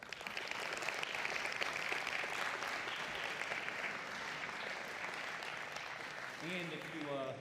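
Audience applause at the close of a talk on the Shroud of Turin, steady moderately loud clapping that fills most of the stretch, with a voice starting to speak near the end.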